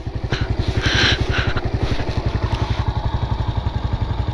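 A Honda Pop 110 motorcycle idles at a stop near an abandoned hydroelectric plant, its engine giving a steady, rapid, even thumping pulse that stays loud and close throughout.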